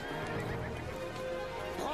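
A horse whinnies in a frantic sword-and-sorcery film action scene, a shrill rising cry near the end over a dense backdrop of music and commotion.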